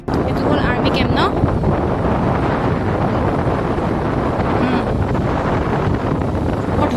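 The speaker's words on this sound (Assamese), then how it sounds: "বৰ ধুনীয়া ঠাণ্ডা ঠাণ্ডা বতাহ এটা মাৰি আছো" Cool breeze blowing steadily past the microphone near an army camp, a constant broadband rush with light buffeting that runs the whole time.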